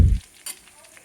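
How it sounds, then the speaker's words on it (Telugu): Mustard seeds, cumin, curry leaves and dried red chilies sizzle briefly in hot oil for a tempering, with a soft crackling hiss after a short low thump at the start. "ఆవాలు, జీలకర్ర, కరివేపాకు, ఎండుమిరపకాయలు వేసి ఈ పోపు వేగిన తర్వాత ఉల్లిపాయలు వేసుకోవాలండి"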